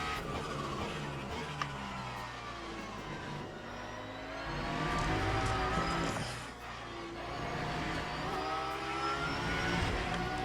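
A race car engine in the Le Mans Ultimate racing game revs and shifts pitch continuously as the car slides and loses grip, loud and steady for the whole stretch.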